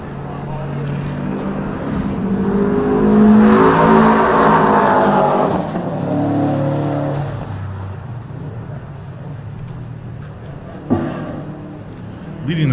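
A Honda S2000 race car in a new livery laps Buttonwillow during a time-attack finals session, its engine swelling loudly as it passes and then fading, with a commentator talking over it throughout.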